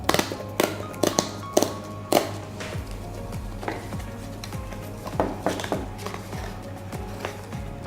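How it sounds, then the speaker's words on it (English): Plastic tab on GoPro Hero 6 packaging being peeled open up close: a run of sharp clicks, taps and crinkly plastic snaps, busier at the start and then scattered, with no talking. "There's this plastic tab here. We're gonna peel this tab open."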